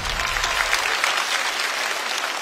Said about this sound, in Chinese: 请锁票，掌声再次给小张。